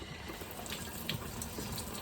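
Hot water runs from a tap for cleaning a surge bucket cow milker. It is a steady, faint, continuous splashing hiss with no voices.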